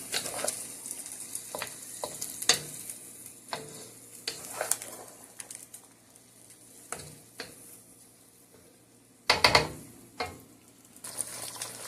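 Chicken wings stirred with ginger garlic paste in a pan for an achari dish, giving scattered scraping and clinking spoon strokes over a low sizzle, with a louder burst of stirring near the end.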